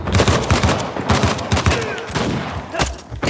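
Rapid bursts of gunfire in the action video game Uncharted The Lost Legacy, loud and close, with repeated rattling shots in quick succession filling the whole stretch.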